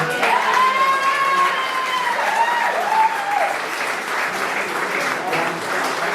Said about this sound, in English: we can just give a quick round of applause for everybody